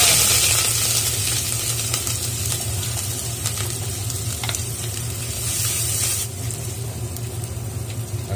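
Ginger and garlic sautéing in a hot pan for papaitan, a steady close sizzle and hiss with scraping stirs against the pan that persist throughout.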